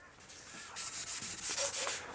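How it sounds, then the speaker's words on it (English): Sandpaper rubbed by hand along a metal cat-back exhaust pipe during polishing, a soft scratchy rasp that grows louder and steadier after the first moment, in repeated close strokes with no talk. "That sounds like sandpaper on metal"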